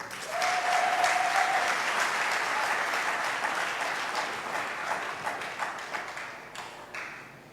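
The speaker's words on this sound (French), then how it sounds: "Il faut applaudir ça." Crowd applause at an Ivorian political opposition rally, loud and sustained at first, then gradually thinning into scattered claps. A faint whistle is heard near the start.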